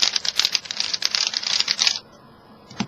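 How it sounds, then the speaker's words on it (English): Moyu Huanying, Zhanchi and Panchi speed cubes being turned in quick succession, a dense run of sharp plastic clicks and clacks close up for about two seconds, then near quiet with one last click. "we'll just compare the noise to a Zhanchi and a Panchi"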